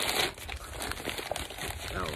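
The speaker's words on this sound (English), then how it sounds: "Oh, sorry about all the papers rustling there." Papers rustling and crinkling close by during a thrift store and garage sale haul, with scattered crackles and soft crumpling over a few seconds, mixed with faint voice sounds.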